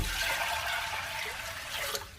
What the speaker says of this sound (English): and submerge them in water.